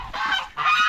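Two loud, nasal goose honks close by, one after another with a brief gap between them.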